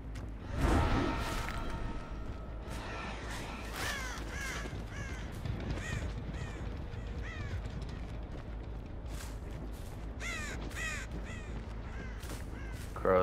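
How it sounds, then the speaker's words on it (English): Crows in Dead by Daylight caw repeatedly in short harsh bursts, scattered through a dense ambient game soundscape with rustles and movement noises, moderately near. "Crows this way?"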